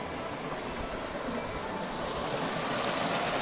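A river rushes hard through a rocky channel at Kayangan Dlepih, a steady, dense roar of churning water close by with no pauses.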